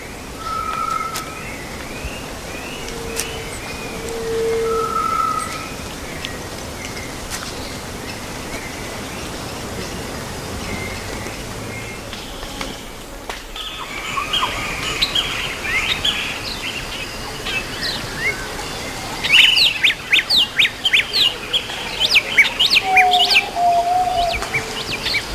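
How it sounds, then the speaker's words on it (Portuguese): Birdsong from a recently mated female in the Atlantic Forest: scattered chirps and whistled notes over a steady forest hiss, becoming a denser, louder burst of rapid calls toward the end. "canto de trêmula satisfação da fêmea recém-coberta"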